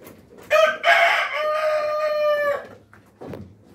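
A Rhode Island Red rooster in a breeding pen with egg-laying hens gives one loud, close crow lasting about two seconds, followed by a short cluck.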